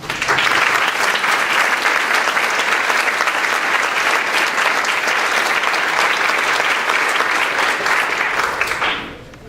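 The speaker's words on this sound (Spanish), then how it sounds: "Lo recibimos con un aplauso" A forum audience breaks into sustained, dense applause to welcome a speaker, holding steady for about nine seconds before fading out abruptly.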